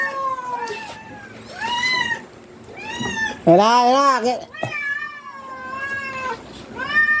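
A hungry little kitten meows loudly and repeatedly, about seven drawn-out, rising and falling cries with short gaps between them. One of them is a longer, strained wail. A person speaks a short word at one point.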